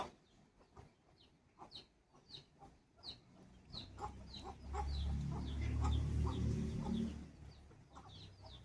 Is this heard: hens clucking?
yes